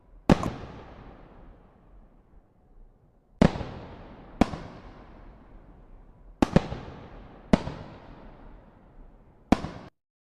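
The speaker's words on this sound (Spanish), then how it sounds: "cuando salimos a la parte superior del barco, podemos oír disparos" Six sharp video game gunshot cracks ring out at irregular intervals on a ship's upper deck, each trailing off in a long echoing decay.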